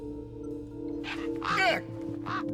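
A crow in the video game Beyond A Steel Sky gives three harsh caws in separate bursts, the middle one longest and loudest, over a steady electronic game hum.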